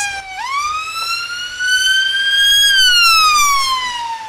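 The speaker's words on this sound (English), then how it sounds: "And the chilling sounds no one wants to hear. As an ambulance rushed by" A loud wailing ambulance siren sweeps up and holds, its pitch sliding slowly downward as it passes close by during flooding in Diego Martin, with faint road rumble beneath.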